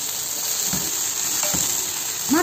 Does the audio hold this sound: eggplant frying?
yes